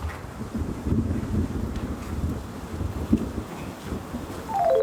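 Steady outdoor wind buffeting the microphone, a low rumbling rush with gusts that swell and fade, no voices.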